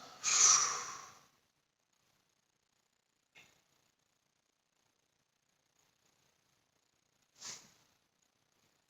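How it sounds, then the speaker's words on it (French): A deep breath is pushed out during a stretching class as one long, close, breathy exhale, followed later by two short, softer puffs of air separated by silence. "Pensez à bien respirer. Et expirer."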